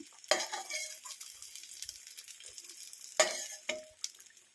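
Eggs deep-frying in hot oil for an egg curry give a steady faint sizzle, broken by two sharp utensil scrapes or stirring clacks with quieter clinks after each.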